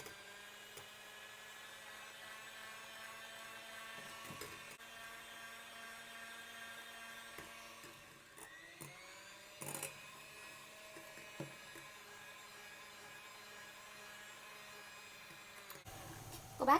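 Electric hand mixer whirring steadily on speed 2, beating eggs and sugar for a soft castella sponge cake, a continuous motor hum with brief clicks and bumps of the beaters against the bowl.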